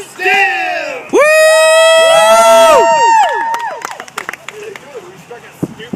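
A live comedy-show crowd at a 2012 festival whoops and cheers loudly at performers striking a silly pose, with high shouted whoos swelling together before fading into scattered claps and chatter.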